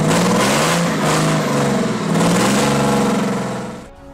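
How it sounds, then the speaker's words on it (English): A Rootes TS3 engine with a Roots blower roars loudly and steadily up close, its throbbing, knocking exhaust note rising and falling slightly before trailing off at the end. "One of the most distinctive features of the TS3 was its unique exhaust note, which earned it the nickname "knocker" due to the characteristic sound it produced"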